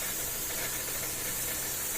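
Chicken tinola soup with corn boils in a covered pot, giving a steady, even hiss of steam and bubbling that holds constant and close throughout, with no talk.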